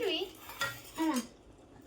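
Dishes are moved about in a home kitchen, making a few brief, bright clinks and clatters spaced out over a quiet background.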